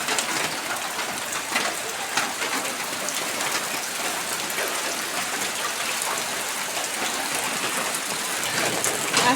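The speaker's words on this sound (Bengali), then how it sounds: "বৃষ্টি শুরু হয়ে গেছে আবার।" Rain starts up again outdoors, a steady pattering hiss of drops on surfaces, moderately close and even throughout, with faint individual drop ticks and no talking.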